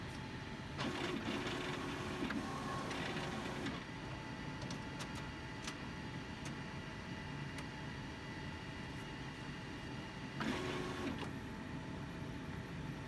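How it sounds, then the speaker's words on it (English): A POP DTF P5000 printer loading a media roll gives off steady mechanical whirring and motor hum, with brief louder feed bursts near the start and again around ten seconds. "once the printer readies up again"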